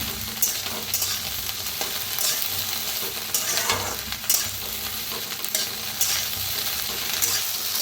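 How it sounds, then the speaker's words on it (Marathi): Okra roasting in a pan with a steady, close sizzle and frequent stirring scrapes, broadband and continuous with no voices. "छान अशी भेंडी भाजायला लागली, अजिबात चिकट नाही बघा।"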